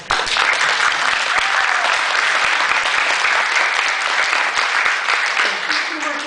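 Audience applause fills an Earth Day summit hall in Ventura County, a steady, dense wash of clapping that holds at full strength for the whole stretch with no voices breaking through.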